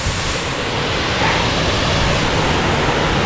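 Water pours over the weir of the Guadalcobacín river in a steady, loud, broadband rush that holds even throughout, close by and with no voices over it.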